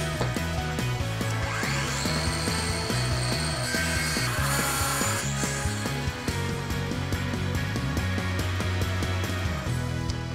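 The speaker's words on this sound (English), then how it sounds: "we have a straight cut guide that comes with our circular saw" A circular saw fitted with a straight cut guide runs through a sheet of MDF, giving a continuous, loud, dense buzzing grind that lasts the whole cut.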